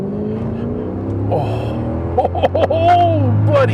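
A 2009 Mercedes-Benz CLS 63 AMG with a high-flow exhaust: a steady rumbling idle, then several quick throttle blips and rising revs with rasping exhaust tone, loud and close, under a man's brief exclamation.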